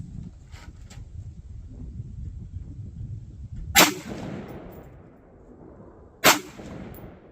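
Two sharp, loud rifle shots roughly two and a half seconds apart, fired with cheap lightweight ammunition while zeroing a CVLIFE EagleBlaze 5-25x56 scope outdoors, each crack trailing into a rolling echo over steady wind noise.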